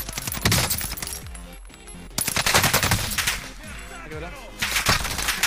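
Rapid bursts of Warzone video game gunfire crackle and rattle in several volleys, with faint voices beneath.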